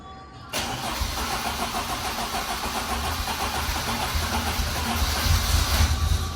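A Rover BRM turbo engine cranks and catches after a silent start, then runs in a loud, uneven, pulsing idle that grows rougher and louder toward the end, close by.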